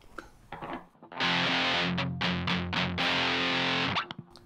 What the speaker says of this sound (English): I've got the distortion set pretty high to get that full crunch sound.